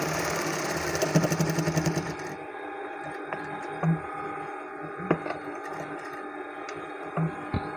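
A sewing machine stitches a shirt seam with a steady mechanical whir, louder and busier at first and then settling into a quieter running hum broken by a few sharp clicks.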